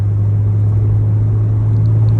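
A 1996 supercharged Acura NSX-T runs with a steady, low engine drone and rumble, constant and fairly loud throughout, with no voices.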